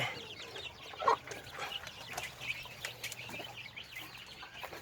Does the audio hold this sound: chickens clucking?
yes